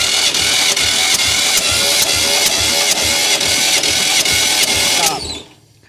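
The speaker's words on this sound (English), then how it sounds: "Go ahead and crank it till I tell you to stop." A 1989 Ford Mustang GT Foxbody engine, suffering low compression, cranks on the starter for a compression test: a loud, close, steady rhythmic chugging for about five seconds that then winds down and stops.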